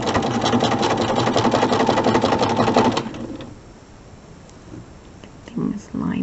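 A sewing machine stitches quilt block corner units in a steady, rapid mechanical whir for about three seconds, then stops, leaving quiet room noise and a few soft handling sounds.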